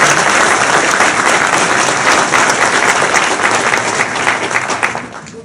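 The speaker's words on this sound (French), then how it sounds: "j'allais vous demander de les applaudir, c'est chose faite" An audience at a public talk on tired democracy applauds two guest authors, a steady dense wash of many hands clapping that fills the room, holding strong before thinning and fading near the end.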